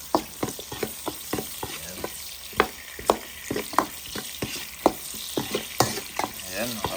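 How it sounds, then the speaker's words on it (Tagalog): Garlic, onion and ginger frying in a pan, a steady sizzle broken by frequent sharp scrapes and clacks of a utensil stirring, close and fairly loud with an uneven rhythm. "lutuin lang natin ng maigi yung ating bawang, sibuyas at luya"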